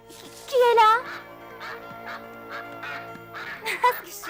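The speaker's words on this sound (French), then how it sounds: "Je suis bête, ce n'était qu'une oie." A goose gives a loud honking call, followed by softer honks and quieter calls over a faint steady background hum.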